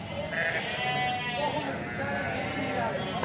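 Sheep with lambs bleat at a sheep market in Beylagan, several close, overlapping wavering calls continuing under steady nearby talk.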